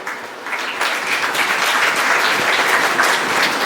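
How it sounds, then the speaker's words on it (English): An audience claps for the college management at the 2023 annual function of a women's degree college in Kalyan, a thick, continuous roomful of applause rising slightly after the opening and staying strong to the end. "a round of applause for the management as well"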